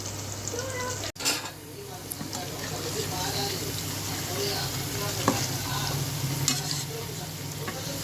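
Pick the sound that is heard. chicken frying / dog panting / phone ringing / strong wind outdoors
chicken frying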